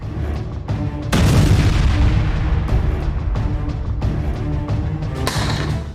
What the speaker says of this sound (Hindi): वीडियो में दिख रहा है कि कैसे एक लड़ाका रिमोट कंट्रोल के जरिए बॉर्डर पार बनी आईडीएफ की एक चौकी पर रॉकेट